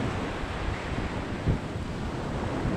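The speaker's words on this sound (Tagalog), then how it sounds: "ganito kalaking alon" Ocean waves roar steadily, a dense wash of surf mixed with wind noise buffeting the microphone.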